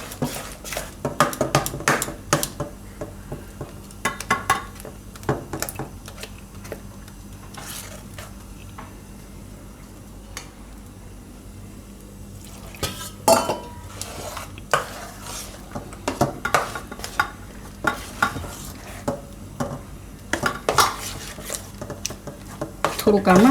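Flour batter for sandwich bhajiya is whisked in a bowl with a spoon, giving repeated light clinks and scraping taps in irregular bursts, moderately close with quieter stretches between.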